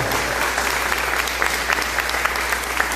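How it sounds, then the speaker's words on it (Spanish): Steady applause from a group of people at a gathering, dense continuous clapping throughout at fairly close range. "un aplauso."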